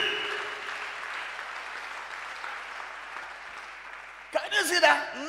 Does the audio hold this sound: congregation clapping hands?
yes